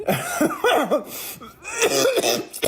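A few close, harsh coughs in quick succession, rough and throaty, with no other sounds around them.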